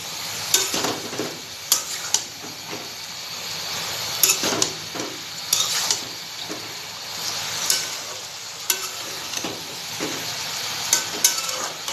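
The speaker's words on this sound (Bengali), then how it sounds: "এবার আমি সিঙ্গাড়িটা নেড়ে দেবো" Singara frying in a pan is turned over and over, steady sizzling broken by a dozen or so sharp scrapes and clinks of the spatula against the metal at irregular intervals.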